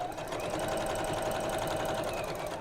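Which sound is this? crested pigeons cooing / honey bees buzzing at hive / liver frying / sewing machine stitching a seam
sewing machine stitching a seam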